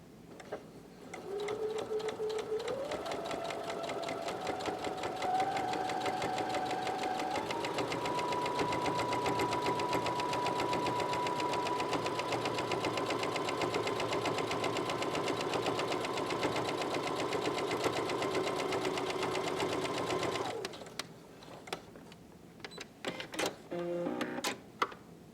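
A sewing machine with a dynamic walking foot runs a straight stitch with the needle in center position, a steady close mechanical whir climbing in speed for about twenty seconds, then stopping with a few small clicks.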